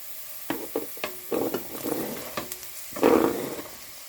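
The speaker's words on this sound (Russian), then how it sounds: "Когда лук на сковороде слегка обжарился, я добавляю туда наши грибы." Onions and mushrooms sizzle in a hot pan while a utensil scrapes and knocks against it in irregular strokes, with a louder burst of frying near the end.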